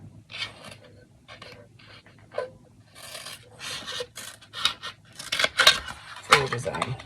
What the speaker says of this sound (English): This is where your scissors come in.